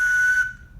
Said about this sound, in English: So this slide whistle, it must know about high and low sounds because it starts with a high sound